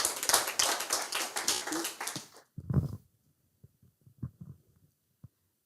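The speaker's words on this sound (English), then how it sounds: "A round of applause for Onesimus Mosoti." An audience claps for a speaker at a Nakuru public debate on a computer cybercrimes bill. The applause is dense and steady for about two seconds, then fades into near silence broken by a few soft thumps.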